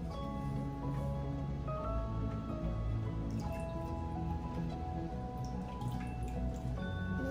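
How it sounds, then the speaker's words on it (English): Water runs and drips steadily as food is rinsed under a tap before going into a pot for boiled dumplings, yam, green banana and sweet potato; the sound is constant and fairly faint, with no talk. "So now she's rinsing it off, and then right after she's gonna put it in the pot."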